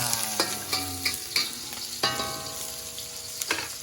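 Onion and garlic dropped into hot oil at an outdoor farm kitchen, sizzling steadily while a utensil clanks and scrapes the pan in repeated strokes, close and clear with no talking.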